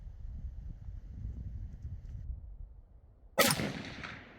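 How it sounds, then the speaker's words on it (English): A single loud, sharp rifle shot from an LR308 chambering .308 Winchester cracks out near the end, then a brief decaying echo, after a stretch of low outdoor rumble and wind. "As I fire the first round,"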